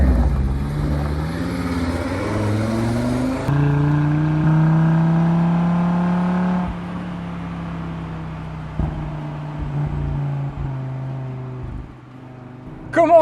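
A green 2022 Audi RS3 engine starts with a sharp burst, then revs, the pitch climbing and holding before easing back to a steady idle, loud and close with no voices over it.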